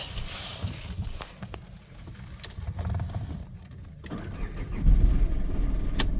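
A Volkswagen Polo or Vento engine cranks and catches after an ECM change, rising into a steady rumbling idle that grows louder toward the end, with no talking.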